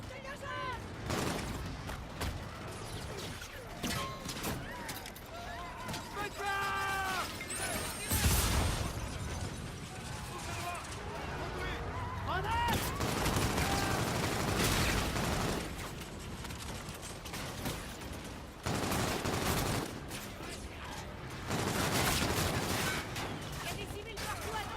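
Gunfire in the Call of Duty: Infinite Warfare video game: loud, dense bursts of shots and heavy blasts roll on almost without pause, with a shattering crack here and there amid the fighting.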